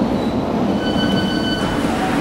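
A London Underground District Line train at Chiswick Park station gives a loud, continuous rumble with faint squealing wheel tones, heard close up and with no talking.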